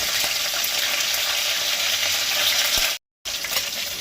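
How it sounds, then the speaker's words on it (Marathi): Mustard seeds sizzle in hot oil and ghee for a Goan rava sheera, a loud steady frying hiss with small pops that cuts out briefly near the end and then resumes. "तेल आनी तूप तापलें काय ना 1 चमचो सांसवां घालपाक जाय।"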